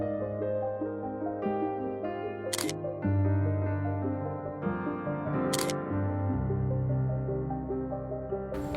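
A Canon 30D DSLR fires its shutter twice during an outdoor nature photography walk, each crisp mechanical click standing out clearly against a steady, droning background.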